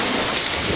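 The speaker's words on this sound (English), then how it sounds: "raining again" Heavy rain pouring during a tornado-warning storm, a brief dense wash of hiss with no voices.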